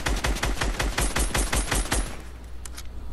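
Rapid automatic gunfire in the Fortnite video game, loud bursts in a fast regular rhythm for about two seconds, then fading to a few scattered faint shots.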